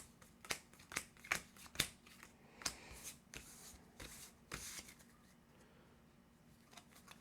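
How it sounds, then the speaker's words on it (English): A deck of game cards being shuffled for a tabletop adventure board game, a run of crisp riffling snaps and flicks, about a dozen sharp bursts close by, fading into quieter rustling with no talking. "Let me shuffle these cards."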